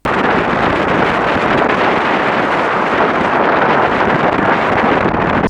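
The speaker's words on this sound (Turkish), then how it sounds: "özellikle tepe bölgesi o kadar rüzgarlıydı ki bakın neler oldu" Strong, steady wind on a hilltop headland at İngiliz Burnu, Eski Foça, roars and buffets the microphone nonstop, a loud broadband rush with no pauses or voices.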